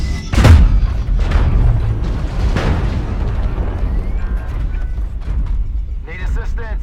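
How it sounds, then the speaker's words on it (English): Loud, close artillery blasts in a video game, with deep booms at the start and again midway that roll off into a rumbling tail, heard under game voice talk. "Target spotted. Artillery strike"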